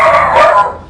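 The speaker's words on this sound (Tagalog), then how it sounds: "Mga aso." Dogs barking at a house in Tandang Sora, a single loud close bark with a yelping, slightly whimpering tone that fades out within a second.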